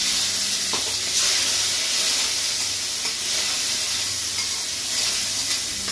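Cumin, a dried chili and shrimp fry in a pan, giving a continuous close hissing sizzle with small crackles and a light scrape or two. No voices are heard.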